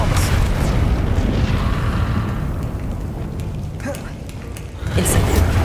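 Repeated Expelliarmus spell casts in Hogwarts Legacy produce heavy booming blasts and crackling impacts, loud and continuous, easing slightly midway before another strong burst near the end.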